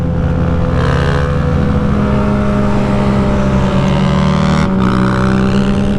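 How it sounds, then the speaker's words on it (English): A motorcycle engine revs hard and holds a loud, steady roar while the rider pulls a wheelie on the road. The deep droning note stays close and continuous throughout, with a slight dip in pitch near the end and no talking. "Pretty good wheelie, Johnny."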